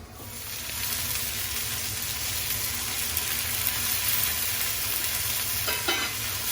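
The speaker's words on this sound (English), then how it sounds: "we're gonna let that simmer for a little bit" Paella cooking on a stovetop, a steady broadband sizzle and simmer from the pan running throughout at moderate level, with a few brief clinks near the end.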